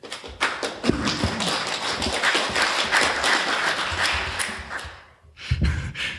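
An audience applauds, a dense, continuous clatter of many hands clapping that dips briefly to near silence before a short final burst.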